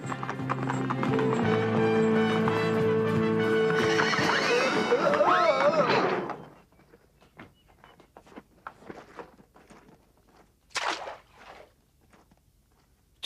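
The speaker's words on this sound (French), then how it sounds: "Les chevaux se sont arrêtés parce que c'est un arrêt de diligence." Horses at a stagecoach stop in a Lucky Luke cartoon: a loud whinny over music in the first seconds, then a quiet stretch of light hoof clops and small scattered noises.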